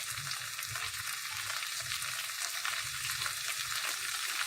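Chicken sizzles as it fries in a pan for homemade chicken mandi, a steady, continuous crackle and hiss close by with faint stirring sounds and no talking.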